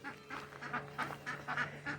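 Domestic ducks being fed and cared for give a run of repeated raspy quacks, close and fairly loud, in quick irregular bursts over a low steady hum.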